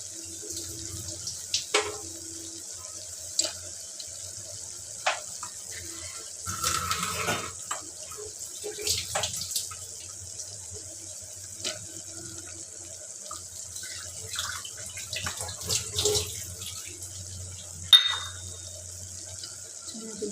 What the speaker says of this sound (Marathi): थोडंसं पाणी घालून कुकरला 2 शिट्टी काढून घ्यायची।